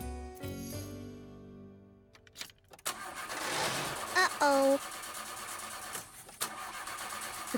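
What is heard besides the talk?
car engine failing to start in cold weather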